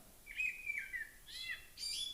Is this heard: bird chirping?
yes